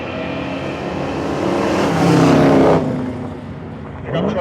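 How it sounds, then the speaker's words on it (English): A short-bed half-ton Chevrolet Cheyenne pickup races a 1967 Camaro at a dragstrip, engines roaring and building in a loud rising surge that cuts off sharply, followed by a fainter revving tail. "Cheyenne pickup truck, short bed, half-ton versus 67 Camaro."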